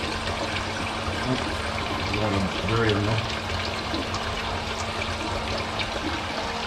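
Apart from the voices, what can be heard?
water trickling through hydroponic greenhouse system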